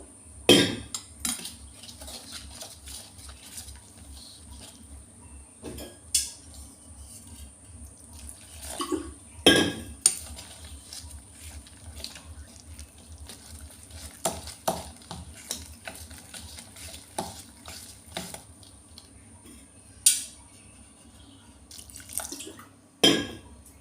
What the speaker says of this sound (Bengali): শুকনো উপকরণ ভালো করে মিশিয়ে নিয়ে অল্প অল্প জল দিয়ে ব্যাটারটা তৈরি করে নেবো